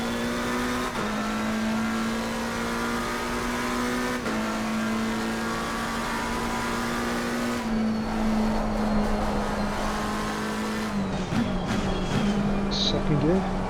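A McLaren 720S EVO race car in Assetto Corsa Competizione drives at speed with a loud, steady engine drone, shifting gears with brief dips and then revving unevenly through a corner.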